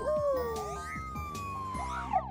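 An ambulance siren wails continuously in rising and falling tones, loud and close, with no other sounds over it.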